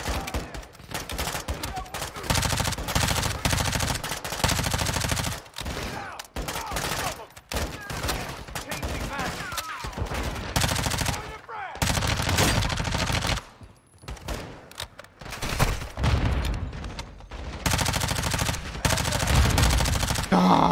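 Gunfire in a video game firefight: loud bursts of automatic fire and rapid shots come in repeated volleys with brief pauses between them, with spoken callouts over the shooting.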